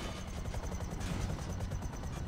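A helicopter in GTA 5 keeps up a steady, fast rotor chop, a continuous rhythmic thumping held at moderate level throughout.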